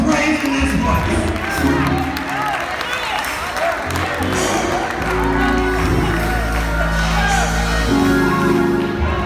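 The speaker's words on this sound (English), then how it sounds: "Give God a hand clap of praise in this place." A church congregation claps and cheers in praise during a sermon, dense applause mixed with shouts and whoops, while a voice talks and sings over the crowd and a sustained organ-like tone runs underneath.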